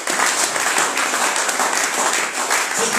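Church congregation applauding their God in worship, a dense continuous wash of many hands clapping at close range throughout.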